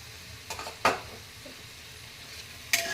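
Onion and garam masala sautéed in a pan make a few brief, quiet scraping stirs with a light sizzle, coming as three short bursts against a soft, otherwise calm background.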